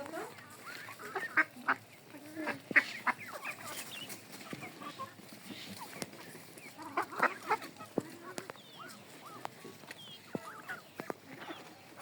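Hens clucking and squawking in a busy yard, short bursts scattered throughout with a few sharper calls, over steady outdoor background noise.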